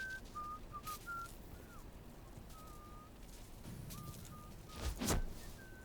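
Faint human whistling in the video game Atomfall, a few short thin notes scattered over quiet ambient background noise, with a brief louder rustle near the end.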